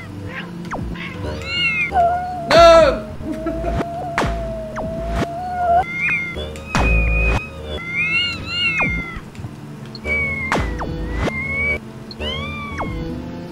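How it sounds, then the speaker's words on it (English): Cat-like meows from evil bunny rabbits in the Castle Story video game, repeated mewing calls rising and falling over several seconds, fairly close and clear above game sounds, with a brief shout from a player. "That sound like cats."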